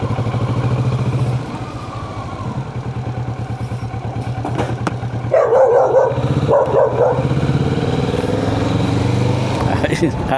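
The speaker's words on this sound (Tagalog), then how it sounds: "Habulin pa ako ng aso." A dog barks in quick, sharp bursts at a motorcycle on a long ride near Bicol, with the engine droning loudly and steadily underneath.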